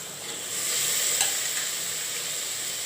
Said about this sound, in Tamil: நல்லா சீக்கிரம் வதங்கும் இது இப்படியே வதங்கட்டும்